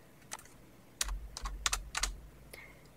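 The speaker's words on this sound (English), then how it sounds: "If I press tab," Keys on a computer keyboard are tapped nearby, a few quiet, separate clicks with a tab key press among them, followed by a short quick burst of typing.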